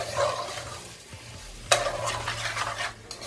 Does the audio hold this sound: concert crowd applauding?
no